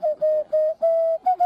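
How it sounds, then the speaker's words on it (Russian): A handmade folk whistle, artist-made and shaped like a head of garlic, gives five short, clear, steady toots in quick succession, close and fairly loud. "Ой, это свистульки у вас такие?"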